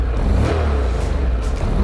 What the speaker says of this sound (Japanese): エンジンかけていきます。